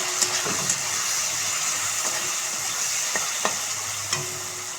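Spices splutter and sizzle in hot oil in a pan while a banana flower curry is being made, a steady close frying hiss broken by several sharp pops.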